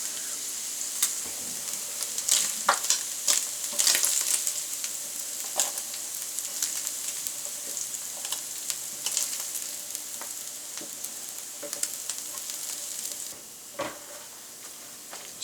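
Frozen hash browns frying on a griddle, a steady close sizzle and crackle with occasional sharper pops and scraping stirs running throughout.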